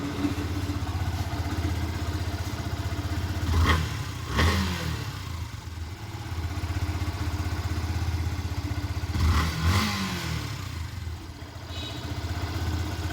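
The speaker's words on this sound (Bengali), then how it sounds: "আপনাদেরকে ইঞ্জিনের সাউন্ড শোনানো হচ্ছে" A Yamaha FZ-S V2 motorcycle in like-new condition idles steadily and close up, with a low, smooth engine hum and two brief throttle blips that rise and fall before it settles back to idle, with no talking.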